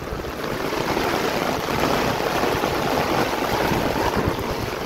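Rainwater rushing past a rice paddy during a rainstorm, a steady, loud, continuous flowing wash with no break and no voices.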